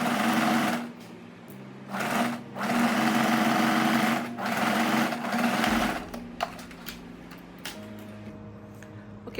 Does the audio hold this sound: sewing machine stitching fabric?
yes